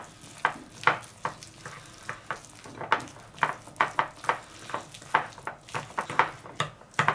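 Thick sesame paste being stirred in a bowl with added sesame oil, producing a regular run of sticky, slapping stroke sounds, close and moderately loud, with no voices.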